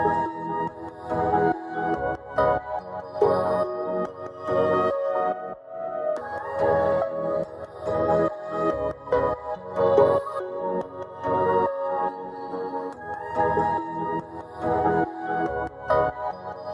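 Electronic music hook produced in Ableton, with a pulsing beat under layered synth tones that swell and drop in a steady repeating rhythm, heard alone without any voice.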